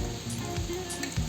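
Chopped onion goes into garlic already browned in hot oil for a Bengali fish curry, giving a steady close sizzle with a few soft stirring knocks throughout.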